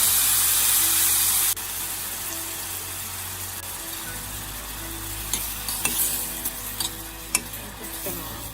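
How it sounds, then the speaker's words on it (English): Shrimp sizzles loudly in paprika-heated olive oil, a hiss that softens after a moment into steady frying with a few clinks and stirring scrapes, no talking over it. "So this is some paprika heated in some olive oil, and we're gonna add some shrimp to that."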